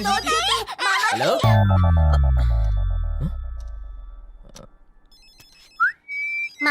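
A phone ringtone goes off in a Hindi film scene: a short rising electronic tone settles into a steady high ring near the end, after someone speaks briefly and a long descending whoosh effect fades out.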